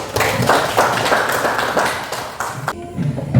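A classroom of students claps together in a brief burst of scattered, overlapping hand claps that fades out near the end.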